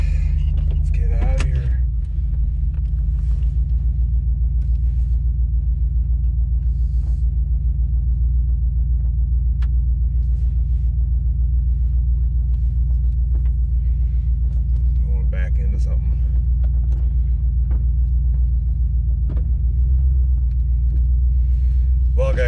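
A truck engine rumbles steadily while driving away from a cold overnight tent campsite, a loud, close, continuous low drone with a few faint clicks and rattles on top.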